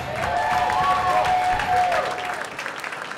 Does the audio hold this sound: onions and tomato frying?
no